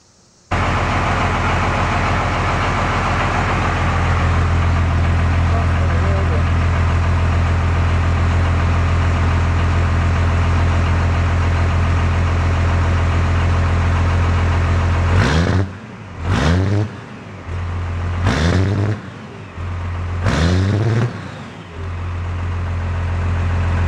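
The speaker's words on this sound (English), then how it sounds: "Maybe I'll do a startup now and let you guys hear it with the exhaust." A truck engine with an aftermarket exhaust cranks and starts, settles into a loud steady idle, then is revved in four or five sharp bursts before dropping back to idle.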